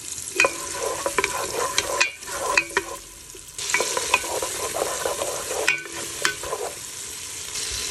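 Ingredients for salmon head sinigang being sautéed in a pan, loud close sizzling with repeated clattering stirs and scrapes in bursts, pausing briefly twice before resuming.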